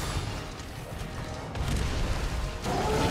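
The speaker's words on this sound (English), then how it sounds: "there's that move he does with the triple explosions, and he curves the last explosion" Explosions from Raging Brachydios's triple-explosion move in Monster Hunter World Iceborne: a dense, roaring rumble with booming bursts near 1.5 and 2.6 seconds, loud and close over battle noise.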